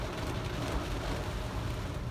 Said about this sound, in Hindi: इतनी ज़ोर से बारिश